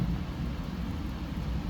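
Low rumbling thunder from an approaching hailstorm, a steady broad roar with wind and rain noise across the whole stretch, no clear individual crack, loud and continuous.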